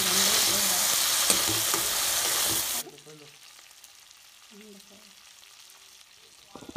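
Crab pieces drop into hot oil with browned onions and potatoes, giving a loud, steady sizzle that cuts off abruptly partway through, leaving quieter crackles and soft kitchen noise.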